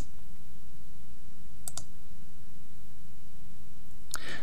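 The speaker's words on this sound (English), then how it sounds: "Click the button, click insert tag." Two pairs of sharp computer mouse clicks, one in the middle and one near the end, over a constant low electrical hum.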